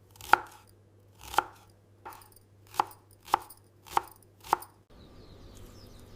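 Green chilies being chopped with a knife on a board, six or seven crisp, evenly spaced cuts ringing out close and clear against a quiet background, followed by a softer faint rustle.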